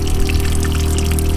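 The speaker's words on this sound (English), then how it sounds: "Yeah, and this is the faucet. When it's on, pretty loud. It has a pump down here at the bottom. And the water just goes straight down." Water pours steadily from a pump-fed faucet in a 1990 Ford camper van, a loud continuous rush with a low pump hum beneath it, close and unbroken for the whole moment.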